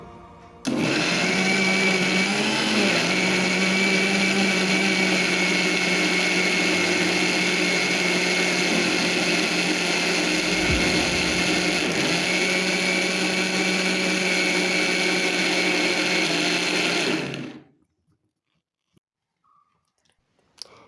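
A mixer grinder grinding wild turmeric with water whirs loudly and steadily for about seventeen seconds, then cuts off abruptly, leaving near silence.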